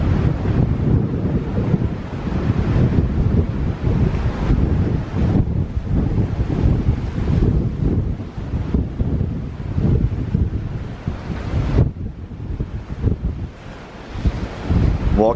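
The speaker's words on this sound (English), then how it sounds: "Very windy." Strong gusting wind buffets the microphone in loud roaring bursts on a cruise ship deck at sea, with sea surge beneath and occasional muffled voices.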